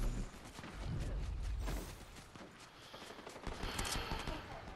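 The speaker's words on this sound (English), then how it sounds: "Uh-oh, shooting behind me." Rapid video game gunfire rattles in dense bursts throughout, loud and close, with heavy low thumps and sharp cracks layered over each other, and brief voice chatter underneath.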